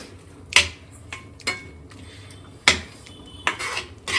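Spoon clinks against a plate as egg rice is served out at home: a handful of sharp metallic taps at irregular intervals, close and clear, with quiet kitchen background between them.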